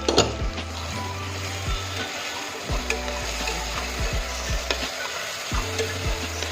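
Garlic paste and a little coriander roast in hot oil, a steady crackling sizzle with repeated stirring scrapes and soft knocks of a utensil against the pot, close and without talk.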